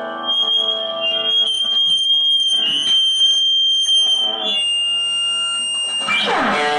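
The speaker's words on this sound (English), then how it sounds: "I cranked up the Vibralux with my gain on full to about 7, which is really loud, and just fed it back" A Fender Vibralux amp at full gain is driven into guitar feedback, giving sustained, piercing high tones that shift and waver. The sound stays loud throughout and ends in a noisy burst, with no talking.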